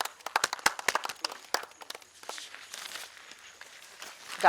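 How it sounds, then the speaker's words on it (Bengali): Audience clapping breaks out for a quiz prize winner at a pharmacy college event in Birbhum, with dense overlapping claps that are loud at first and then thin out into scattered applause. "আর আবার জোরে হাততালি হয়ে যাক"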